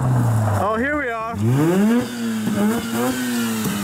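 A Mazda RX-8 13B rotary engine revs hard, its pitch sweeping up and down in waves before settling into a steady high drone, loud and close.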